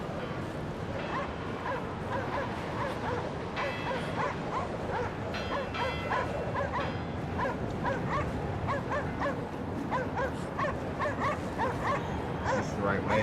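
In the video game Cryostasis, a dog barks, yips and whimpers in frequent short bursts throughout, while someone talks over it against a steady low hiss.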